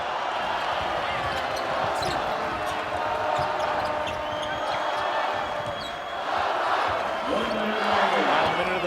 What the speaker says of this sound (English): This crowd is loud for the Lobos.